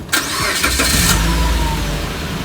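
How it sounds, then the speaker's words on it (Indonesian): A 2007 Suzuki Grand Vitara JLX SUV engine cranks and catches, then settles into a steady, loud, close idle with a low rumble and no talking. "Dan ini suara mobilnya."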